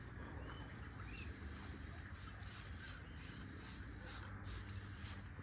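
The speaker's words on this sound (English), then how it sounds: "That's just normal wheel cleaner." Wheel cleaner being sprayed onto car wheels during a wheel restoration: a run of short, quiet hissing spray bursts repeating at a fairly even pace over a low background rumble, with no talking.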